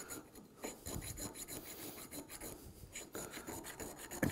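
A metal file rasps across a bronze fitting in short repeated strokes, close and fairly quiet, with an uneven scraping rhythm.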